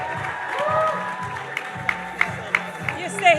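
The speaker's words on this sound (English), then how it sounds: "Big round of applause, everybody." Audience at a Caribbean awards gala applauds an organizer, a broad wash of clapping and crowd noise with a few sharp cheers and whoops over background music and chatter.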